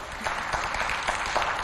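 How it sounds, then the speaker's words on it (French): Studio audience at a talk show clapping for a presenter, a dense, even patter of applause from a crowd that continues steadily for a couple of seconds. "Applaudissez pour la présentation."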